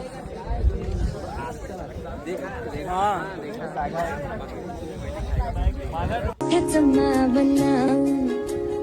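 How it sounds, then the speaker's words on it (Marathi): Dense crowd chatter and babble of many voices on the packed Kalsubai peak trail, continuous and close, with footsteps and shouts; near the end it cuts abruptly into music. "कळसुबाईला फुल गर्दी."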